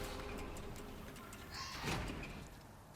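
A door in the Bendy and the Dark Revival video game slides open after an ID card is used, a single swelling whoosh midway through over a steady ambient hum.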